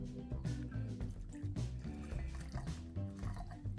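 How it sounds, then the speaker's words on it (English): Vodka poured into a measured cocktail shaker for a piña colada, giving a short close liquid trickle and dribble with soft splashy sounds throughout. "A couple ounces of vodka."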